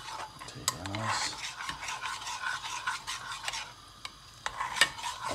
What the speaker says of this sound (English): I'm just gonna start whisking it around.